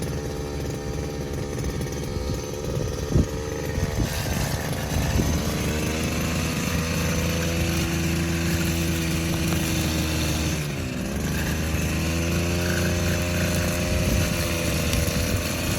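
On a farm, a grass cutter engine buzzes loudly and continuously, revving and easing back with a brief dip near the end, with no talking over it.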